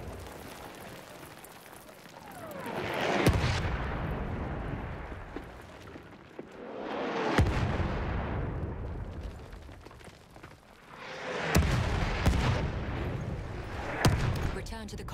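An enemy artillery barrage in Battlefield 1 lands in big rolling explosions, three or four heavy booms swelling and decaying over several seconds each, loud and close, with sharp shots between and voices under the blasts.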